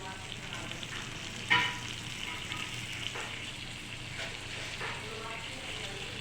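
Tomatoes fry and sizzle in a pan, a steady close crackle with stirring scrapes and one brief clatter near the start.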